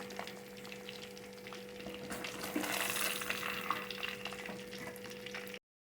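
Chicken Manchurian pieces deep-fry in hot oil, a steady close sizzle and bubbling hiss that swells midway and holds, with no talking.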